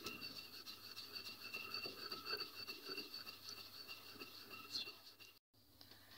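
White poppy seeds ground in a mortar, a soft continuous gritty rubbing and scraping up close, fairly quiet, with a brief break near the end.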